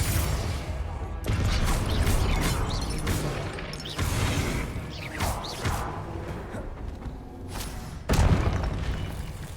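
Confringo blasting spells exploding in Hogwarts Legacy: a series of loud booming bursts with crashing, whooshing debris, the strongest blasts spaced a few seconds apart, over steady combat noise.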